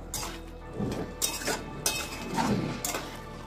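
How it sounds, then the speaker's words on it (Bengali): Spoon stirring garam masala in a cooking pot, a series of close metallic clinks and scrapes at an uneven rhythm, with no talk over it. "গরম মশলা দিয়ে একটু নেড়ে দিলাম।"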